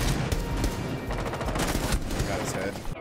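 Rapid gunfire in Rainbow Six Siege, a dense burst of repeated shots sounding close and loud for the whole stretch, with a voice talking faintly underneath.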